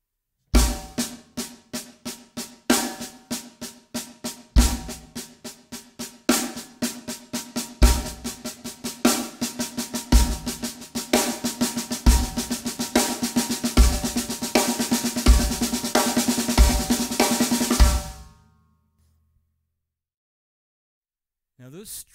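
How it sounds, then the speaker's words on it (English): Double paradiddle rudiment played on a drum kit with accented strokes and quieter taps, a steady repeating pattern with periodic bass-drum thumps that builds in density for about eighteen seconds, then stops into silence. "The correct stroke types for a double paradiddle are down, tap, tap, up, tap, tap, down, tap, tap, up, tap, tap."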